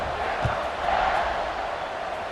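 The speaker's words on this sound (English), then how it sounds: "this crowd is buzzing after that last score" A college football stadium crowd at Oregon versus Baylor hums loudly after a score, a dense continuous roar of many voices with a brief swell and scattered shouts.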